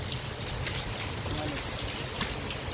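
Heavy evening rain falls steadily on a village home and fields, a dense, even hiss of drops close by that lasts throughout, with possible faint voices underneath.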